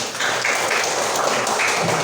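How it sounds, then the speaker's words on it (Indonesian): A classroom of pupils claps to reward a correct answer, many hands clattering in a dense, even patter that stays loud and steady throughout. "Betul ya, tepuk tangan."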